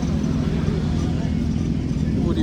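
Kawasaki Z900 and BMW S1000 motorcycle engines idle together, a steady loud low rumble filling the whole stretch with little change in level.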